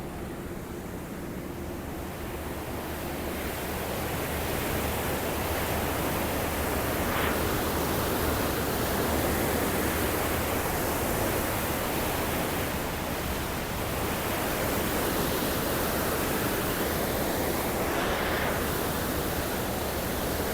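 Water pours steadily into the entry point of the BS link canal at the Qadirabad headworks on the Chenab River, a loud, continuous broadband rush with no pauses, filling the scene up close and alone without voices.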